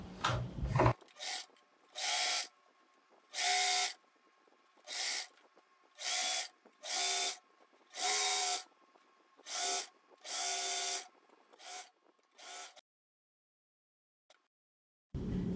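Sewing machine stitching a churidar fabric strip at a half-inch seam: about a dozen short, whirring runs of the motor and needle, each one to two seconds with brief pauses between, close and clear, followed by silence.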